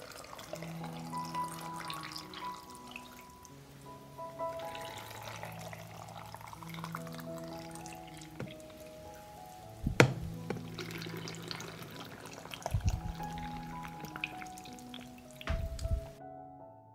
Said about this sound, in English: I pour water into each jar to cover the pepper.